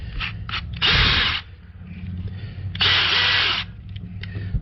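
A Dewalt 12 volt Xtreme 3/8 drill/driver runs in two close, loud bursts of high-pitched motor whine, each about a second long, with short blips of the trigger in between.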